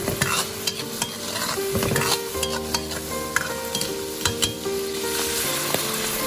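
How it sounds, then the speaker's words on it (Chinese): Fish roe stir-fried in a wok with cooking wine and light soy sauce, a steady loud sizzle under repeated scraping and clanking strokes of the spatula against the pan, with no talking. "然后加入少许的生抽，再快速的翻炒均匀。"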